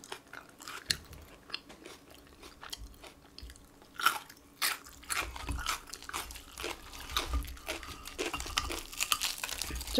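Crunchy BHC fried chicken being bitten and chewed close up, with repeated crisp crunches and bites in an irregular rhythm, louder toward the end, and no talking.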